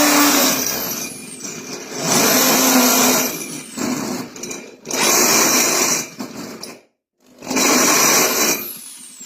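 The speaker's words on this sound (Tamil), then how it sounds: "அந்த ட்ரில்லிங் மிஷின்ல மெட்டல்ல ஓட்ட போடக்கூடிய பிட் ஒன்னு மாட்டிருக்கோம்" A power drill fitted with a metal-cutting bit bores a 14 mm hole through the middle of a pressure cooker, whining loudly in several long bursts with short pauses and one brief silence between them.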